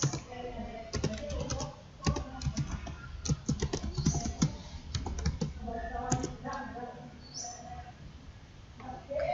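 Keys clatter in quick, uneven bursts as a password is typed on a computer keyboard at a Linux login, the tapping close and crisp with short pauses between clusters.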